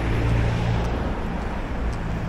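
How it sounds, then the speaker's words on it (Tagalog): Steady broadband road traffic rumble, cars and engines passing continuously at moderate distance, even and unbroken. "Traffic."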